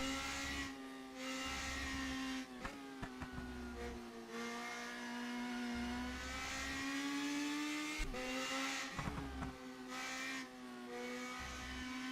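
A Radical Cup race car in rFactor 2 at Blackwood, its engine droning and revving steadily with gear changes and brief dips while lifting off, recovering after sliding off the grass, loud and continuous with no talk.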